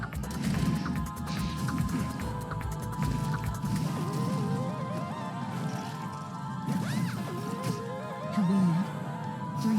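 A horse enemy in the game Honkai: Star Rail neighs amid battle, with whinnies sounding over heavy crashes, smashes and thwacks in dense combat audio.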